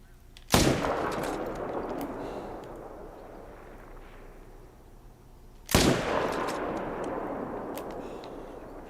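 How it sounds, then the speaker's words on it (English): Two heavy rifle shots ring out in a hunting video game, each a sharp loud blast followed by a long rolling echo that fades over several seconds, about five seconds apart. "I'll shoot this guy over here."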